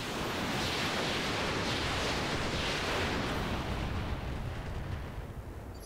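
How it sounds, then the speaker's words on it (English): A volley of LRM missiles launching in the mech game RogueTech, a dense roaring rush of overlapping blasts that holds loud for several seconds before tapering off, no speech. "We're going to fire on his head with the LRMs."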